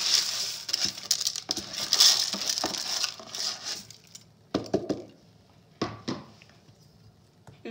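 Metallic clinks and scraping of a cooking pot being handled while making bulgur pilaf with lentils, several short knocks and rattles, close by, then quieter with scattered taps.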